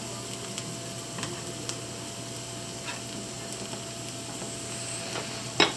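Onions sizzle steadily in a pan as they brown for cheese and onion burgers, a constant soft crackle with a few faint ticks of stirring and one sharper clatter near the end.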